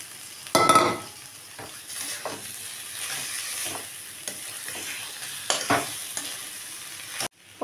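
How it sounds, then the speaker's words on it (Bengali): Pointed gourd sautéing in spiced oil, a steady close sizzle broken by several loud scraping stirs of a spatula against the pan. "পটলগুলো ভালো করে কষানো হয়ে গেছে"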